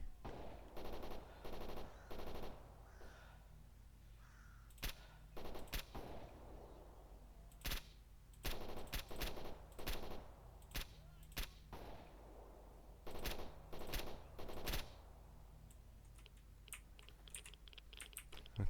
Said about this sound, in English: You can hear them all shooting where they thought we were.